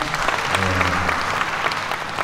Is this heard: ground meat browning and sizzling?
no